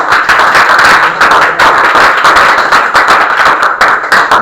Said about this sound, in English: Give a big round of applause once again.